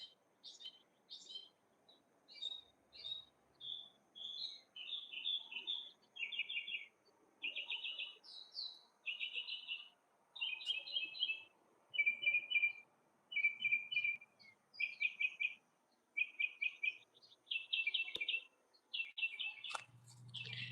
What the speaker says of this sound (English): And then you have the mockingbirds and the trees.